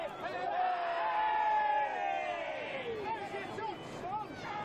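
A large crowd at an Australia Cup football match at the Kingsway Sporting Complex roars in a sustained, swelling wash of cheering and chatter, with a voice talking over it.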